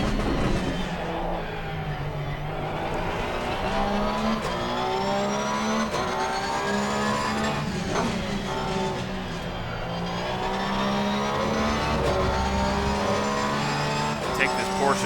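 Porsche race car engine on the Brands Hatch circuit in a racing video game, a steady high revving drone that rises and falls through gear changes with faint tyre squeal, running continuously beneath someone talking.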